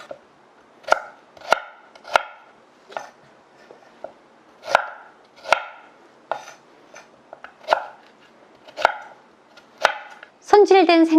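Knife chopping fresh ginger on a cutting board for ginger syrup, about a dozen crisp, separate thuds at an irregular steady pace, close and clear, ending in a brief clatter.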